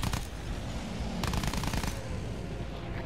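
Rapid automatic gunfire in Battlefield 1, with bursts of machine-gun fire crackling in short volleys over a noisy battlefield din, moderately loud and continuous for a few seconds.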